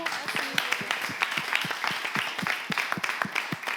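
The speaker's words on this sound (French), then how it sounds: "On va les raccompagner avec des applaudissements bien nourris." Scattered clapping from a modest crowd at a slam poetry event, uneven and lively, with voices mixed in.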